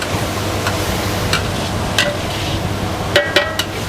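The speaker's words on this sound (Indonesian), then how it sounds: "Kita tumis ya sampai si cabainya ini kita pastikan nggak langu atau matang ya" Garlic, shallots and chilies sauté in a pan for spicy beef meatballs, giving a steady sizzle. Occasional sharp clicks and scrapes of a utensil against the pan sound close by.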